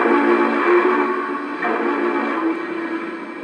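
An O scale model steam locomotive sounds its whistle through a large speaker in the tender: a steady, sustained harmonic tone lasting a few seconds, fairly loud and close, with no talking.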